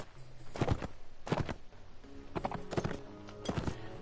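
Horse hooves clip-clopping in Mount & Blade: Warband on PS4: a series of sharp, fairly close hoof strikes in an uneven walking rhythm, heard alone without talk.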